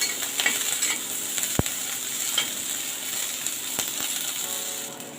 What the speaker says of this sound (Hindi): प्याज अच्छे से भून गई है, हल्का ब्राउन हो गई है।